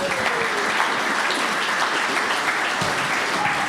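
A crowd at a casual science lecture night gives a short, steady round of applause, continuous clapping without pause for a few seconds.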